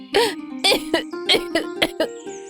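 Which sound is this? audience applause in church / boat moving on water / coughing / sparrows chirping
coughing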